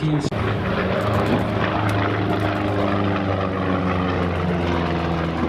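Propeller-driven P-47 Thunderbolt fighter, powered by a 2,000-horsepower radial engine with a turbo supercharger, flying at an airshow, a loud steady droning roar throughout with one brief dip near the start.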